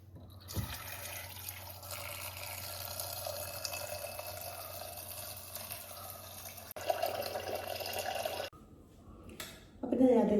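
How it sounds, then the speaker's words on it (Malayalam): Water pours steadily into a pressure cooker holding chopped food for a homestyle Kerala dish, a continuous gushing stream lasting several seconds, then cutting off before brief clattering. "ഇനി ഇതിന് ആവശ്യത്തിന് വെള്ളം ചേർത്തിട്ടാണ് വേവിക്കാൻ വെക്കുന്നത്"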